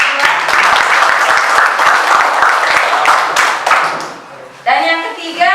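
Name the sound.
classroom applause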